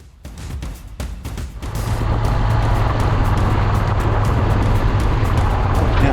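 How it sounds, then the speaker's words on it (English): Jet boats run on a river in a wide open rural landscape, a steady distant engine drone that swells after a few faint thumps and holds at a constant roar with no talking. "apart from maybe the sound of jet boats on the river over there"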